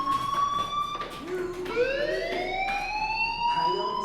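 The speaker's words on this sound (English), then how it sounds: "Hey, do you hear that fire alarm?" A fire alarm rings in the video game Life is Strange as a loud, steady, ringing tone that goes on through the clip, with a sweeping tone rising over it partway through.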